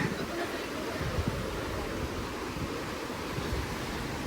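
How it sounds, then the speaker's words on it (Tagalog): Athabasca Falls sends a powerful, continuous roar of falling water, a broad, steady rush heard from nearby with some wind buffeting the microphone. "yung sa Athabasca Falls, dito pala yung bagsak ng tubig niya"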